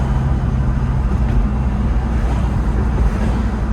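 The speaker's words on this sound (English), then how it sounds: "just taking a quick test drive. You could hear the motor." Steady low drone of a supercharged BMW E36 M3 engine during a test drive, heard from inside the car as a continuous rumble with road and wind noise and no talking.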